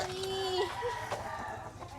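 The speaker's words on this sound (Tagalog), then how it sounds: "Ang laki ng manok" A large chicken clucks and crows in a rural yard in Nueva Ecija, a short drawn-out call followed by a few brief clucks, fairly close, with faint background noise and no talk.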